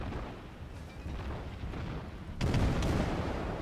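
Naval guns fire in a World of Warships battle, a steady rumble of distant booms that swells into a heavier, louder salvo blast partway through, with no talk.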